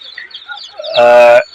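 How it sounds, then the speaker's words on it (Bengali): Native chicks or poultry give a loud, harmonic call lasting about half a second, near and alone, after a stretch of fainter high chirping in the background. "এগুলো সব দেশি মুরগির বাচ্চা"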